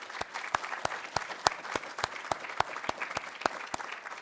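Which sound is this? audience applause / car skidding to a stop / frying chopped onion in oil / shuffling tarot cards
audience applause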